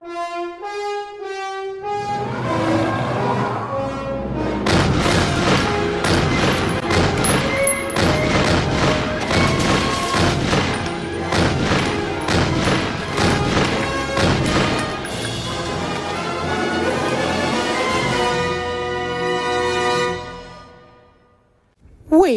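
Rapid bursts of animated gunfire shooting bullets at a rock monster, loud and sustained for about twenty seconds over a busy cartoon score, with heavy impacts and crashes, before fading out.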